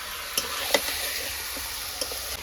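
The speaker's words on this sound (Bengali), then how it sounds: "মাংসটা প্রায় কষানো হয়ে গেছে, প্রায় না তো হয়েই গেছে" Meat sautés in a pan with a soft, continuous sizzle, broken by a few light clicks and taps of stirring.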